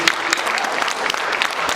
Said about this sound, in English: let's have one final round of applause for all of our poets